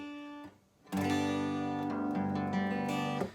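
Acoustic guitar in open D G D G B D tuning, a single note followed by a full strum of the open strings that rings and sustains loudly, with a few quieter string accents in the decay.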